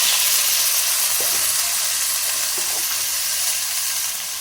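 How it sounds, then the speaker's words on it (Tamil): Spinach frying in oil tempered with mustard seeds and cumin gives a loud, steady close sizzle and hiss, with a couple of faint stirring scrapes in the pan. "கீரையை போட்டு கிளறிடலாம்"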